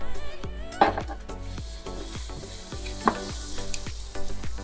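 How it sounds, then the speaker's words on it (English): Loud, steady sizzling of steak searing in a hot pot of a sous vide water oven, with a dense crackling hiss and a few sharp pops and clinks throughout. "Oh yeah, I love to hear that sizzle."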